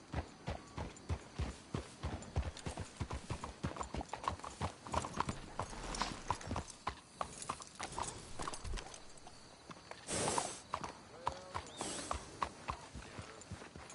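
Horses plod along in a video game, hooves clip-clopping in a steady rhythm close by, with a brief whinny and a soft rustle midway, no speech.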